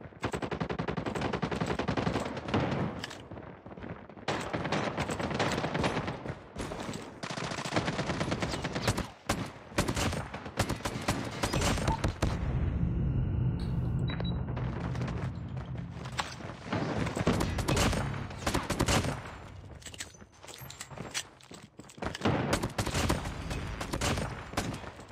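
A revolver in the mobile shooter Call of Duty Mobile fires over and over in rapid clusters, with brief pauses between flurries of gunshots and a few quieter stretches of in-game noise.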